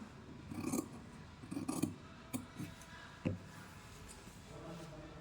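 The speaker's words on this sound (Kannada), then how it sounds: "ಕಟ್ ಮಾಡ್ಕೊಳ್ಳಿ ನೀಟಾಗಿ" Scissors snip through blouse fabric in a few soft, close crunching cuts with short gaps between them, fairly quiet and with no talking.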